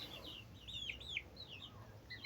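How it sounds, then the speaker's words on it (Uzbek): Young chicks peep softly in a quiet setting, a series of faint, high, rising and falling chirps repeating throughout with no talking. "Mana jo'jalar."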